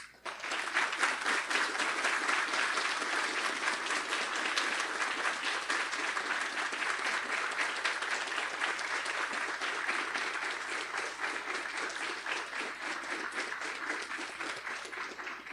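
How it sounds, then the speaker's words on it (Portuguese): Audience in a lecture hall giving a standing ovation for a speaker at a symposium, with sustained, dense applause from many hands that stays loud and even for about fifteen seconds. "Pedimos para assistência que recebam de pé e com a salva de palmas Sua Alteza Imperial e Real, Dom Bertrand de"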